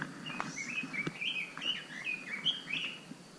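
A small bird chirps along the Manoa Cliff Trail in a Hawaiian forest, a quick series of bright, high chirps close by, with faint rustling in the background.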